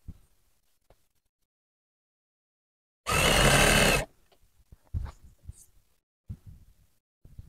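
A sewing machine stitching elastic onto a bedsheet runs in one loud, steady burst of about a second, close by, followed by quieter handling noises and fabric rustling.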